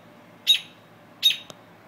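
A bird gives two short, sharp chirps about three-quarters of a second apart, close and clear over a quiet background, followed by a faint click.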